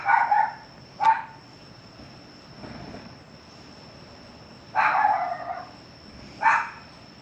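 A dog yaps outdoors at night under a super moon, a few short bursts spaced apart at moderate distance, with a steady insect drone in the background and no talk.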